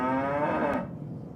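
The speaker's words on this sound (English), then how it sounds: "Where's the cow we just heard?" A cow moos once in a long, loud, drawn-out call that fades out near the end, heard alone at an airport planespotting livestream.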